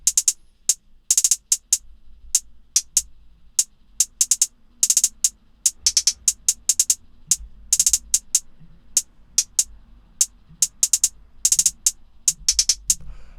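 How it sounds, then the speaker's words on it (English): A clean hi-hat sample played in a trap-style pattern, crisp bright ticks in quick bursts and rolls over a faint low rumble, loud and upfront with no talking. "He sent me this hi-hat sample. It's super clean."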